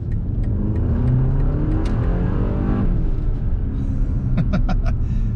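A 2025 BMW M235 Gran Coupe with the B48 turbo four accelerates hard in sport mode from inside the cabin, engine note rising through a quick upshift and climbing again, with faint clicks and whooshes near the end.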